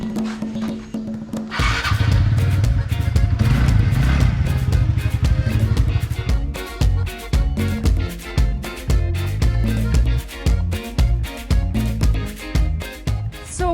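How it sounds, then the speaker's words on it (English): A motorbike ridden along flooded road puddles on Siargao Island, Philippines, with a loud, close engine revving and droning steadily throughout. "we're gonna have to ride our bike through all of these pools here that formed last night"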